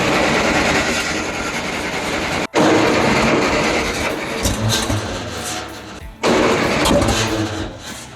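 A 30-year-abandoned tractor engine cranking and sputtering, loud and close, with two sharp backfire bangs cutting through the rough churning.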